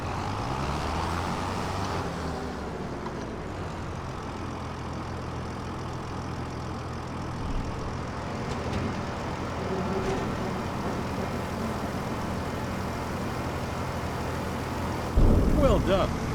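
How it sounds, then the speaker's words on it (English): A tractor with trailer rolls toward the tip area in Farming Simulator 2025, its steady low engine drone running unbroken and fairly loud throughout, with a brief louder bump near the end. "Drive the trailer over the tip area and unload."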